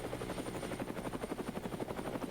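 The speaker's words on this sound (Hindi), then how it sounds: "ओह, ये तो उड़ रहा है।" Toy helicopter flying, a fast steady rotor chop pulsing evenly throughout, faint and close with no talk.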